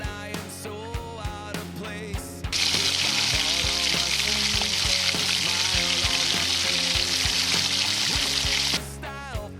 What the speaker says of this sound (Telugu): ఫస్ట్ మటన్ని బాగా వేయించుకోవాలి, తేమ అంతా పోయినంత వరకు.